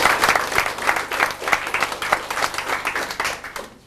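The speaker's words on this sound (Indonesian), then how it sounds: "tepuk tangan untuk Bapak Ibu semua" Audience at a business partnership orientation seminar clapping in rhythmic unison, a quick, steady pulse of loud claps repeating several times per second and pressing on until the end.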